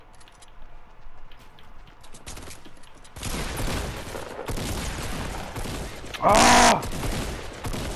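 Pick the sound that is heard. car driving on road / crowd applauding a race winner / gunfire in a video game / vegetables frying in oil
gunfire in a video game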